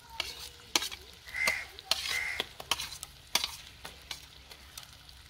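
Onions sizzle in a kadai with a soft hiss under scattered scraping and tapping from a stirring spoon, close but fairly quiet, with no voices.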